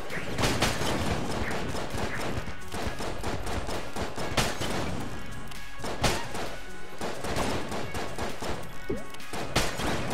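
Rubber bullets fired in the dungeon shooter game Enter the Gungeon, heard as a dense, loud barrage of rapid shots, smashes and thuds running continuously for about ten seconds with no pauses.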